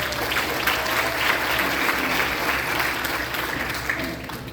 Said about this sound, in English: Round of applause for Bree.